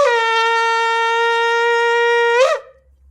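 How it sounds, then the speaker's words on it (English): A shofar sounds a tekiah, a single long straight blast held steady for about two and a half seconds with a bright, buzzy tone, ending with a brief upward crack before cutting off, close and loud. "the tekiah is the long straight blast"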